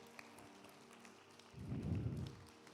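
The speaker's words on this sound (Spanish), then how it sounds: "Dale un aplauso al Señor." A church congregation bursts into applause for the Lord, a short swell of clapping that rises after a quiet moment and fades, moderately distant and fairly soft.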